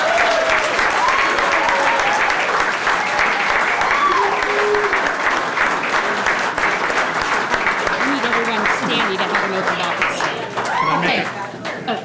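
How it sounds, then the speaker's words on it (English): Sustained applause from an audience at a chamber of commerce awards ceremony, a dense, even clatter of clapping lasting many seconds and tapering slightly near the end, with faint voices mixed in. "Now you can give him a big round of applause."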